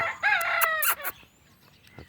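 A fighting cock weighing about 2.5 kg crows once, loud and close, a long strident call lasting about a second, then the clip falls nearly silent.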